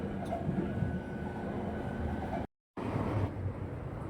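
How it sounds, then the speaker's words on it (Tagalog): Interior rumble of a train on a first ride, steady broadband rolling noise with a brief dropout midway, moderately loud and continuous. "Already at the train, everyone. First train."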